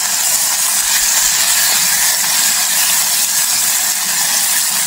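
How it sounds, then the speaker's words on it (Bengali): Tengra fish fry in hot oil over low heat, a few pieces at a time, giving a loud, steady, unbroken sizzling hiss from start to finish with no voices. "এবার আমি অল্প অল্প করে ভাজবো"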